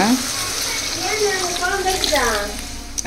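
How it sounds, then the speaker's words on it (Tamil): Water splashes and hisses into a hot frying pan, with sizzling throughout while a voice speaks over it. "இப்போ தண்ணி ஊற்றிக்கலாம் நம்ம."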